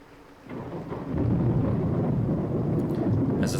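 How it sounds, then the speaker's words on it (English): Thunder rumbles with steady heavy rain in the horror game Corpse Party, a low roar swelling after the first half second and holding loud and continuous to the end, with a brighter crack near the close. "As the thunder and rain grow in intensity"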